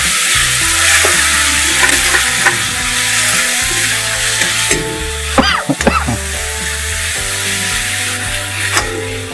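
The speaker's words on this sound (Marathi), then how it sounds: "हे टोमॅटो सुद्धा या कांद्यामध्ये मस्तपैकी आपल्याला शिजवून घ्यायचे आहे।" Chopped tomatoes and onions cook in a pan, a steady loud sizzle and hiss running throughout with occasional scraping stirs of a spatula, close and without talk.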